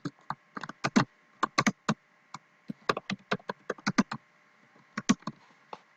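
Computer keyboard typing in quick irregular bursts of sharp clicks while building an Excel stock screener, close and clear, with short pauses between runs of keystrokes.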